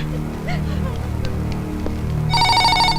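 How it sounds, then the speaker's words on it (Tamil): A telephone rings in a scene from a Tamil film, its loud electronic trill arriving at the end after a stretch of background sound and low talk. "மிஸ்டர் ராகேஷ் உங்களுக்கு ஃபோன்."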